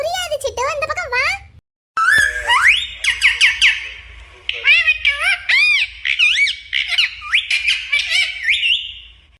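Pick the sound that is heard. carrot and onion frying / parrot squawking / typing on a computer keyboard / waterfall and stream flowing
parrot squawking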